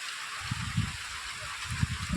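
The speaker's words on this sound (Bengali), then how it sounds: "বৃষ্টি হচ্ছে বাইরে" Rain falls outside a resort in Digha as a soft, steady hiss, with faint low thuds and drips scattered through it.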